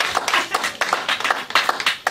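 Live show audience in Japan clapping in uneven bursts, individual claps distinct and close, rhythmic but loose, with no talking over it.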